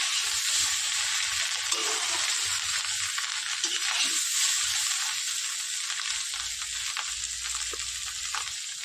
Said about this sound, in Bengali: দিয়ে আবার একটু ভেজে নেবো